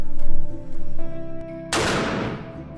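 A single gunshot fires about two thirds of the way in, a sharp, loud broadband blast with a decaying tail, after a stretch of low droning background.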